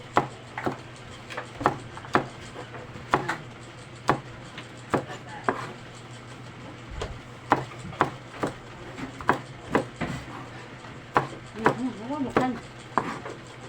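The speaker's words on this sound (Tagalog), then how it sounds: "Mabilis natin mag-slice." Knife quickly slicing Baguio beans on a cutting board, a steady run of sharp, close chopping taps with short pauses between bursts, no talking.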